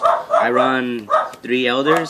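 A dog barks and whines in a couple of drawn-out, yelping bursts close by while someone talks over it.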